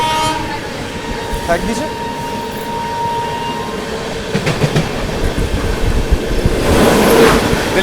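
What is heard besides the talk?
Delhi Kamakhya Brahmaputra Mail train passing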